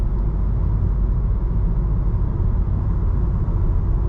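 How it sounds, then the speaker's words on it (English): Steady broadband tire roar fills the cabin of a 2022 VW Taos on 17-inch wheels while driving, a constant low rumble at moderate level with no talking. "Not too much road noise coming from the tires"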